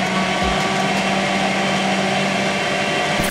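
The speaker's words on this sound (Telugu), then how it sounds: "we put it in a mixie and then mix it" A mixie blender grinds pizza sauce at steady high speed, a loud continuous motor whine with churning, alone for a few seconds.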